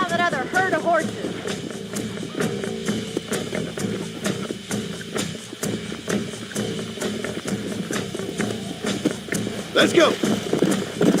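Hooves clip-clop in a fast, steady rhythm as horses gallop in the video game Red Dead Redemption, with music and a voice speaking over them.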